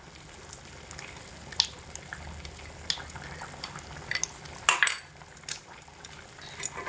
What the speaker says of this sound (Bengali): এই দুটো জিনিস দিয়ে ভালো করে একটু মিশিয়ে নেব